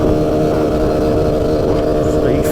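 A CASA SST 265 car engine revs steadily up to about 4,500 rpm, a loud, continuous droning roar with a bumpy road rumble beneath it and a faint voice near the end.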